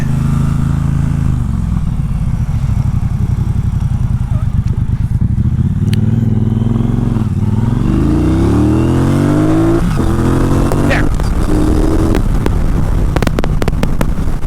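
A Triumph Bobber motorcycle engine revs hard and climbs steadily in pitch while accelerating through first gear, loud and close, with wind buffeting the microphone.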